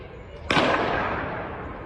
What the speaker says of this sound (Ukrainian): Як зі шкільного подвір'я лунають постріли, чутно на цьому відео